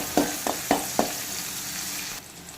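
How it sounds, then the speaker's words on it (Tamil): Small onions sauté in a pan for brinjal chutney, a few sharp clattering stirs over a steady sizzle that drops off near the end, with no talk. "வெங்காயம் வந்து பொன்னிறம் வர வரைக்கும் நல்லா வதக்கிக்கலாம்"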